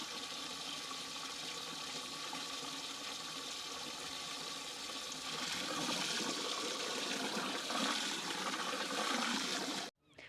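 Water runs continuously into a 200-litre tank being filled to dilute an organic farm fertilizer made with cow dung and banana, a steady rushing pour that swells louder midway and cuts off abruptly at the end.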